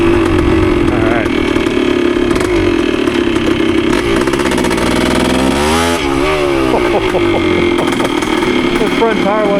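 A rebuilt 1973 Yamaha CT3 motorcycle engine runs loud and close for the whole stretch, a steady buzzy two-stroke drone that rises and falls with revving, with people talking over it.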